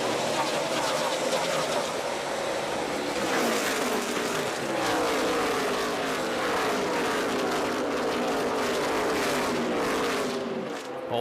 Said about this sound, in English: Those cars flashed by at 180 miles an hour, just inches from the grass.